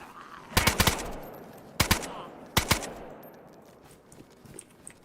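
Gunfire from a weapon with a big magazine in the DayZ video game: three sharp bursts of rapid shots with short gaps between them, loud and close, followed by quieter scattered clicks and rustling.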